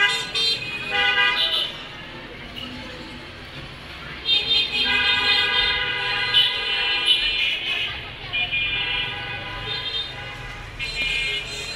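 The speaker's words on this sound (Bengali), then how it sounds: "এখান থেকে গাড়ি ঘোড়া দেখা যাচ্ছে।" Busy street traffic below a balcony, with repeated car horns tooting in bursts over a steady roadway hum, fairly loud and close, while a voice talks at times.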